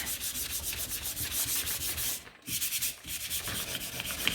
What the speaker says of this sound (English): So now we're taking that sandpaper and we are smoothing that out.